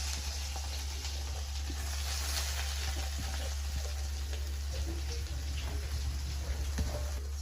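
Water pours into a cooking pan of chickpeas and garlic for a curry, making a continuous splashing hiss that runs steadily for several seconds with no talking.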